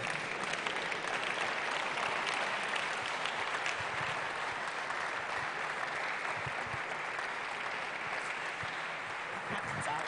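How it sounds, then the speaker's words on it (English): Audience applause welcomes a speaker at the Springboard 2020 Road Show session in Kumasi, a dense, loud, sustained clapping that runs the full length without letting up. "please, with a big round of applause. Yes, a standing ovation for that matter."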